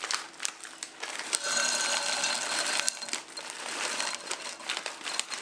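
A whisk beats a medium-grain cornmeal mixture in a bowl, giving a quick, busy clatter of rapid scraping strokes close by, continuous with brief uneven pauses.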